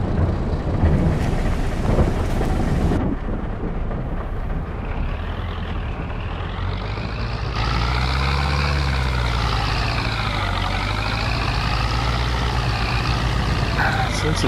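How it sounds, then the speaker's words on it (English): Steady heavy rain hisses over deep rolling thunder in the Farming Simulator 22 video game on an old Polish farm. The rumble is loud and continuous, swelling and fading across the whole stretch. "Since it's so dark with the rain and everything"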